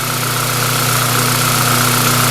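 A 7th-generation Toyota Celica engine idling indoors in a shop, a steady even hum with a constant low drone and no variation.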